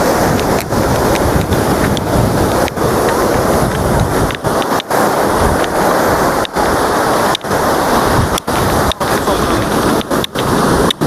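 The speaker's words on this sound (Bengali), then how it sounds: "সমুদ্রের ঢেউয়ের মারাত্মক গর্জন আর পুরো পাকে ভিজিয়ে দিচ্ছে" Sea waves at high tide on Golden Beach, Puri, roar as a steady, loud surf wash mixed with heavy wind buffeting the microphone.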